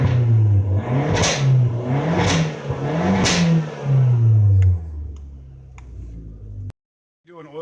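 A Fiat 500 Abarth's small engine revs up and down in several throttle blips, loud and close, then cuts off with a few ticking clicks afterward.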